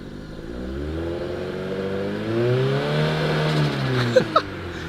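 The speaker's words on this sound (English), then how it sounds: "So this is me pressing on the accelerator linearly." A turbocharged Honda Civic engine revs up smoothly under a steady press of the accelerator, its rising tone climbing over several seconds, loud and close, ending with a couple of sharp clicks.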